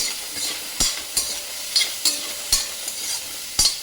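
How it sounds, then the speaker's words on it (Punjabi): Chili pieces fry in hot oil for a turnip and fenugreek bhurji. A steady sizzle runs under a spoon scraping the pan at a regular beat, close and clear. "ਜਦ ਤੱਕ ਉਹ ਬ੍ਰਾਊਨ ਨਹੀਂ ਹੁੰਦਾ ਤਾਂ ਆਪਾਂ ਇਹਨੂੰ ਭੁੰਨਦੇ ਰੱਖਾਂਗੇ"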